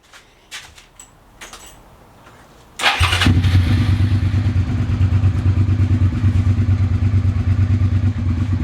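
Suzuki SV650S motorcycle engine, just repaired with a new voltage regulator, cranks and fires into a loud, steady idle after a few light clatters and clicks.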